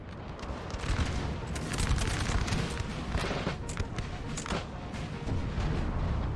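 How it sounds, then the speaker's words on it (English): Massed artillery and musket fire from a Napoleon: Total War battle at Leipzig form a dense, continuous rumble of overlapping booms and crackling volleys. The din is loud and unbroken throughout, with faint voices underneath. "A lot of artillery."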